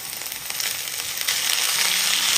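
Chopped onion and grated large carrot sizzle loudly in an oil-filled pan while being stirred, a continuous bright crackle that swells slightly louder midway.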